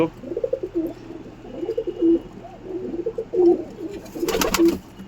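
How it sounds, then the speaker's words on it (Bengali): Kalanka breed pigeons cooing close by, soft throaty phrases repeating in several bursts, with a louder flutter of wings near the end and no talk. "এই একটা কালাঙ্কা পায়রা দেখাবো, এই তোমরা দেখতে পাচ্ছ।"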